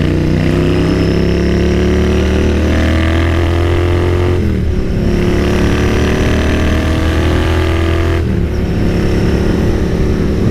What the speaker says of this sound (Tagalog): Grabe yung tunog niya no, opposite nung sa XSR 900 natin.